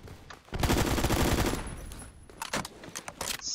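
Gunfire in the video game Phantom Forces: one long, loud automatic burst, then several shorter, sharper bursts of shots close by.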